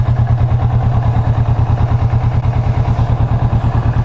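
A Kawasaki Vulcan S motorcycle engine thrums steadily while riding, a loud, close, even low pulsing throb that holds constant throughout without speech.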